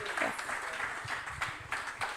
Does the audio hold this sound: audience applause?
yes